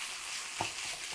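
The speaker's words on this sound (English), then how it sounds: "now we are just going to saute this up a little bit" Bacon sautéing in a small pan, a steady broad sizzle and crackle with a couple of brief stirring clicks, fairly close and moderately quiet, no talking.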